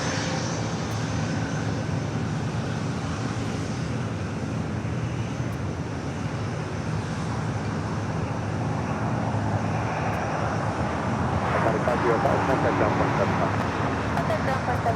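A Bombardier Global 5000 business jet at LAX airport, a steady broad engine roar with wind and distant traffic noise, swelling slightly louder toward the end.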